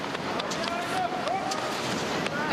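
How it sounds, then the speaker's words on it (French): Wind gusts across a women's biathlon pursuit course in Östersund, a broad rushing noise under a commentator talking in French. "Et Tendrevold qui continue toujours, on l'entend hein, ce vent."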